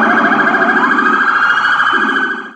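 A toy fire engine's steady wailing siren with a high electronic tone sounds close and loud, then fades off at the end.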